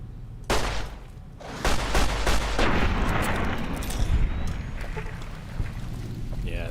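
Gunfire rattles in Fallout New Vegas, with several sharp shots at the start followed by a dense, sustained volley of rapid fire and rumbling echoes, moderately loud.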